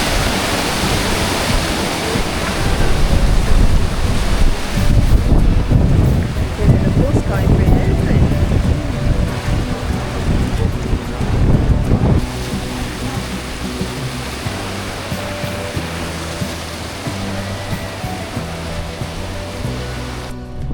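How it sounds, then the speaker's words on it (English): Indian Ocean swell crashes against granite rock formations along a coast, a loud broad surging roar with wind noise, then a calmer stretch with music and speech over the surf. "These dramatic granite formations are carved by powerful channels of Indian Ocean swell."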